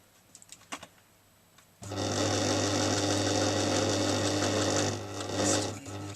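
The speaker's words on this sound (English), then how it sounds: "We're just going to stitch here." A sewing machine runs steadily for about four seconds, stitching a basic seam on denim for a tote bag made from a pair of jeans; the motor hum is loud and close, with a few soft handling clicks before it starts.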